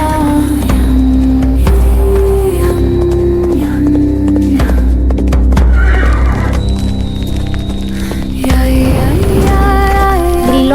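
A horse whinnies loudly over a dense effects bed, with hoofbeats, a crackling fire and commotion in a burning village, and no one talking.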